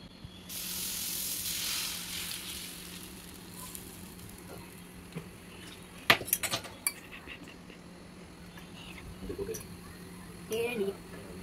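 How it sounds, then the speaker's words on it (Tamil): Dosa batter hits a hot pan with a bright burst of sizzling that settles into a quieter fry, joined by scattered clinks of utensils and faint voices in the background. "இப்போ வாங்க தோசை ஊற்றலாம்."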